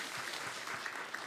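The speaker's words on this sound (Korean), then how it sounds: "우리 뜨겁게 박수로 하나님 앞에, 우리 주님 앞에 영광을 돌려드리고요" A church congregation claps steadily through an Easter Sunday service, a soft, even wash of applause with no clear break.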